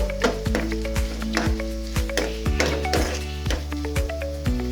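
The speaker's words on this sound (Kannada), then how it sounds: "ಸ್ವಲ್ಪ ಬ್ರೌನ್ ಕಲರ್ ಬರೋವರೆಗೂ ಸ್ವಲ್ಪ ಫ್ರೈ ಮಾಡೋಣ" Cashews frying for a kara pongal tempering in a pan, with close, steady clinks and scraping of a utensil against the pan over a soft sizzle; no one speaks.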